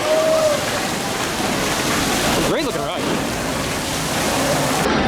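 Steady rushing, splashing water from an amusement park water ride fills the clip, loud and continuous, with a brief voice speaking over it midway.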